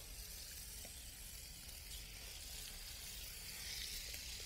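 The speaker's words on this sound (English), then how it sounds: "we want to go ahead and put that onto the grill, like so" Chicken thighs cook on a grill with a faint, even, continuous hiss and no distinct pops, heard at a low level throughout.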